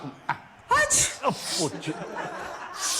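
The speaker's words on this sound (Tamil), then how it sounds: "எதுக்கு இப்ப இந்த தும்மல்?" A single sharp sneeze bursts out in a Tamil TV serial scene, followed by chuckling and voices speaking close by.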